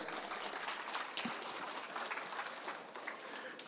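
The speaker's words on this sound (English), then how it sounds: "Could we get a round of applause, please," Audience applause at a Rocket League esports event, Gamerfest 2023, a dense steady wash of clapping sustained for the whole stretch at moderate level, with no voices over it.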